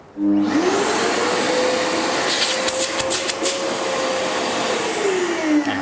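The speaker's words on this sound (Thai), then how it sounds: "แต่ถ้าผมต้องการที่จะเอาตัวเครื่องดูดฝุ่นนะครับ มาดูดเก็บฝุ่นดูดพื้นอะไรเงี้ย ก็สลับโหมดได้เลยก็กด" A Festool dust extractor vacuum switches on indoors, its motor whining up quickly after a click and then holding a loud, steady suction roar with a faint tonal hum.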